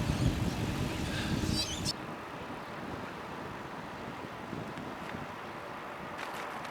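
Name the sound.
blustery wind while cycling downhill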